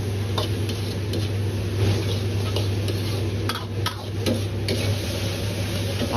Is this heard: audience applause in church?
no